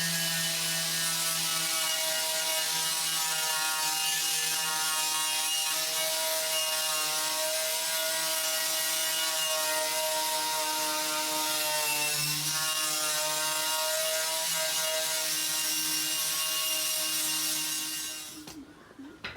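Rough sanding over the primer guide coat on a 1936 Ford Tudor street rod body gives a steady, loud droning whir with a gritty edge that runs without break and cuts off at the end.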